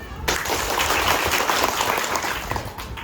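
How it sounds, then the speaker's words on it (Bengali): Dense audience applause from a gathering of adolescent girls at a camp speech, steady clapping filling nearly the whole stretch after a brief moment of voice at the start. "আপদা আল্লাহ কো তালি দিও"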